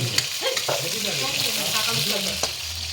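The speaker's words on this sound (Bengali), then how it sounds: "তখন আলু ভাজা হচ্ছে" Potatoes fry in a pan on an outdoor hillside cooking setup, giving a steady close sizzle with occasional stirring scrapes and clinks throughout.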